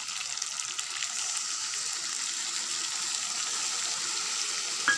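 Turmeric and chilli mixed in water hits onions and garlic frying in a pan for a goat meat curry, giving a steady, close, bright sizzle that holds evenly throughout with a small clatter near the end.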